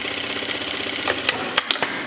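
A sewing machine stitching a French seam on a shirt, running half a centimetre in from the edge: a fast, even mechanical whir of stitching, then a few sharp clicks and taps as it slows and stops, close and alone.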